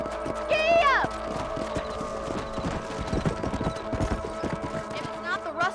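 Horse hooves gallop in a fast, steady clip-clop rhythm in the video game Red Dead Redemption, opening with a loud whinny and a brief shout, then continuing close and even over faint music.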